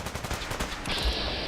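Rapid gunfire from raiders in a Fallout 4 Sim Settlements 2 firefight, a dense stream of overlapping shots close by, ending in a heavier thump and a hissing wash.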